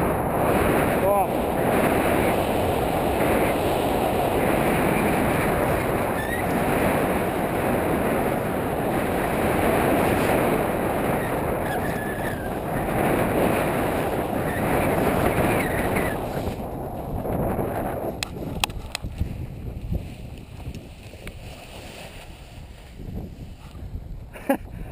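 Steady wind roars against the microphone while paragliding, a loud, continuous buffeting rush that eases toward the end, with no talk over it.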